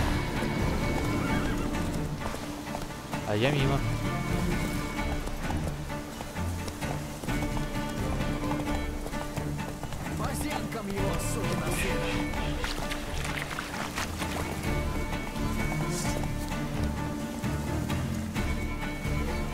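Horse in The Witcher 3 neighing and clip-clopping over a running game soundscape, hoofbeats and a whinny heard through ongoing chatter from someone talking throughout.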